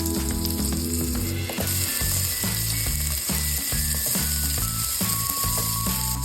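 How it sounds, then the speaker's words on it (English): Potatoes sizzle steadily in a pan while cooking for a Nepali khana set, with cumin seeds and onions already fried. The crackle stays loud and continuous, with rhythmic clicking over it. "The next step is to fry our potatoes."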